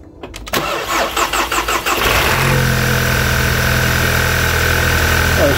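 An Audi TT S Line, just fitted with a new PCV valve and with its rocker cover resealed, cranks with a rapid chatter of starter pulses, catches, then settles into a loud, steady, close-up idle.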